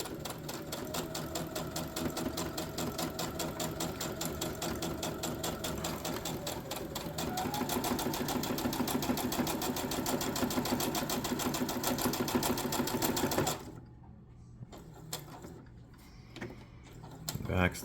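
A sewing machine stitches fabric in a long, steady, rapid mechanical rhythm for about thirteen seconds, close and fairly loud, then stops abruptly, leaving quieter handling noises.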